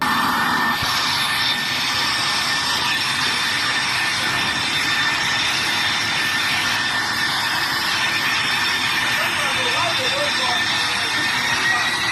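A jet airliner's engine roars steadily and loudly at an airport, with a sustained broadband whine and high tones running through the whole stretch, under faint background voices.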